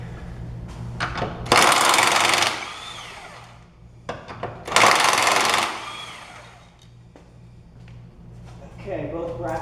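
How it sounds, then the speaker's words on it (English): Socket wrench loosening the lower control arm bracket bolts on a BMW E46, heard as two loud bursts of rapid ratcheting with a steady hum underneath and quieter clicks and handling noise between them. "I'm going to use a 16mm or a 5/8 socket. Loosen the brackets from the chassis."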